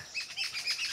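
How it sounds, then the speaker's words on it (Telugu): Quick high-pitched bird chirps repeat in a rapid series in a forest, bright and fairly close, with no voices. "ఇక్కడ పక్షులు సౌండ్ చేసాయి."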